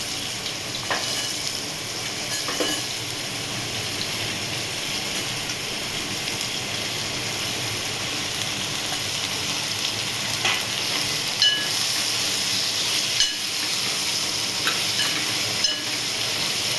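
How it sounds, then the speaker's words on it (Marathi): Bottle gourd dropped into hot masala in a pan sizzles steadily while a spoon stirs, with occasional scraping clicks over a continuous frying hiss. "आता याच्यामध्ये दुधी टाकून घेते"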